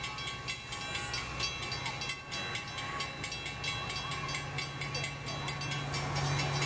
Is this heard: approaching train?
yes